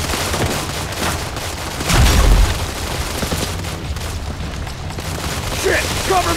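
Mobile shooter Modern Combat 4: Zero Hour in a firefight, with a dense wash of gunfire and a deep boom near the two-second mark, layered under busy combat noise and shouted voices.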